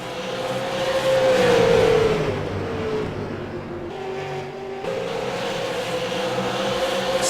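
Super late model race cars racing at Five Flags Speedway during a 75-lap race night. Loud engine roar sweeps past and fades, with revving and more cars passing, under faint commentary.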